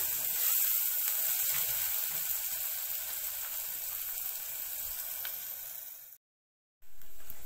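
Onion fries in a pan with a steady, close hiss and crackle of sizzling oil, fading slightly before a sudden brief silence and then resuming, with no talking.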